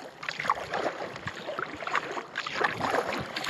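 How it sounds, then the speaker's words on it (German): Low engine chugging of a freight ship on the Elbe-Seitenkanal passing a kayak, heard under paddle splashes and wind. "Tuckern eines Motors"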